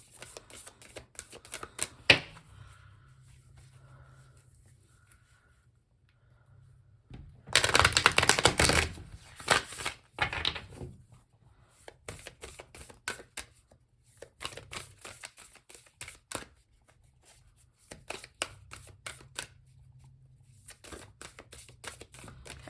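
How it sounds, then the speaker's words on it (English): Tarot cards are shuffled in repeated bursts of quick riffling and tapping, close up and crisp, with quiet pauses between rounds and one louder flurry midway. "One more shuffle and then we'll go ahead and cut."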